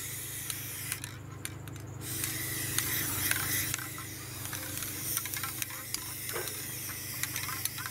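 A spray can hisses in short and long bursts while a light coat of paint goes onto the lid of a barrel stove, close by, with faint rustling and handling noises between passes.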